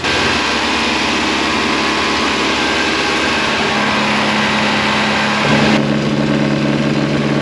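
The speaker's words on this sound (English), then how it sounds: "the car runs, but the only problem is that it's idling kind of high" A Mercedes W124 wagon with a freshly swapped engine idles high and steadily, a constant close-up drone. The tone shifts and swells slightly just past the midpoint, and no one speaks.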